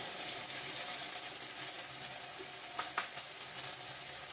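Chili powder sizzles in oil in a pan of frying chicken curry, giving a steady, soft broadband hiss with faint crackles and a couple of small pops near the end, heard alone at low volume.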